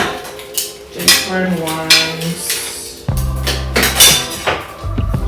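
Wooden-handled IKEA cooking ladles knock and clink against each other and other utensils in a few loud, uneven handling bursts, with a person speaking briefly between them.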